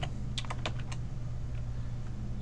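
Keystrokes on a computer keyboard while entering a script for a streaming color ticker, rapid clustered taps in short bursts over a steady low hum, close and moderately loud, no talking.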